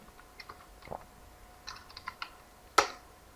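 Someone typing on a computer keyboard, a few scattered soft keystrokes then a short burst of clicks and one louder final key press, close by in a quiet room.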